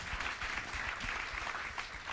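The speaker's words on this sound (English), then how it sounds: "Big applause for these small guys with big ideas" An audience at a panel discussion applauds young panelists, giving steady, dense clapping that holds at an even level throughout.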